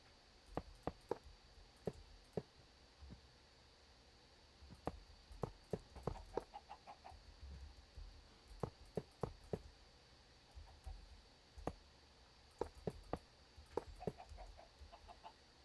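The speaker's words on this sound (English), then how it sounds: "There's a lot of chickens here." Chickens cluck in a video game, scattered short clucks and calls coming in irregular bursts, fairly faint and some distance off, with no talking.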